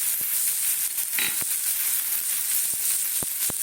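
Green chili paste tipped into hot oil while cooking potatoes, taro and prawns, giving a steady broadband sizzle throughout, with a brief burst of spattering and several sharp utensil taps against the pan.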